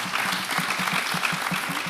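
Loud, dense applause from a forum audience at the West Africa Women's Political Leadership Forum honouring the ECOWAS vice-president, with rapid overlapping claps and a faint rhythmic pulse, sustained throughout without speech.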